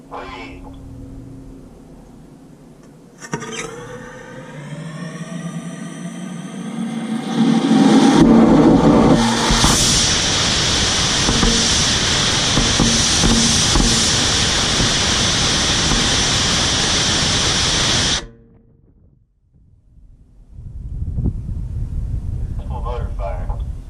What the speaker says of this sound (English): Because there were no visible cracks in the motor or any other damage, we decided to fire the motor again.